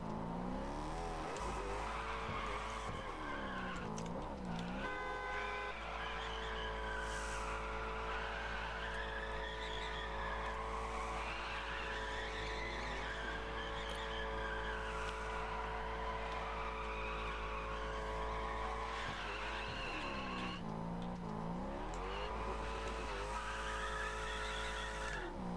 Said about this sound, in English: Spin those tires.